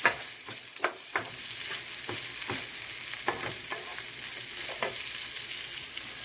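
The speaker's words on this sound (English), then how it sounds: "So as you can see, I'm sauteing my luncheon meat. And I'm using butter." Luncheon meat sautéing in butter in a pan, a steady broadband sizzle with occasional stirring scrapes and small pops, close and alone.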